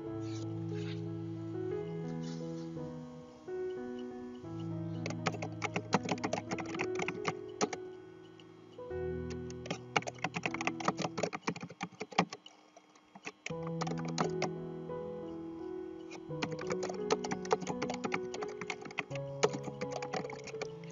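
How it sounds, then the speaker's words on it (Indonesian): Typing on a computer keyboard while an online quiz is written: bursts of rapid, close key clicks in uneven runs and pauses over a tonal background with held notes. "saya ketik seperti ini"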